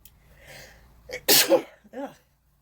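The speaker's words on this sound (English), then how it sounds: "Sorry, I have to sneeze." A quick inhale leads into one loud, close sneeze, followed by a short breathy groan afterward.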